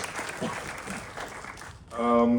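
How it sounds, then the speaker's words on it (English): Audience applause at an IMAX screening and Q&A for The Revenant's 10th anniversary: steady clapping from a full room for about two seconds, dropping away as a voice starts speaking. "I would like to give an applause to Chivo Lubeski that is sitting there"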